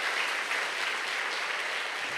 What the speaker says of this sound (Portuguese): dá uma baita de uma salva de palmas para Jesus Cristo agora